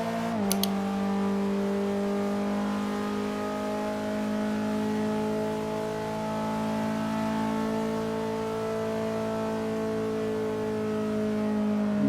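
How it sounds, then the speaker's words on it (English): A car accelerates hard out of a corner on the Nürburgring Nordschleife, its engine holding one loud, steady roar with a slowly rising pitch that fills the whole stretch, after a brief click at the start. "Accelerating hard out of the corner toward Metzgefeld."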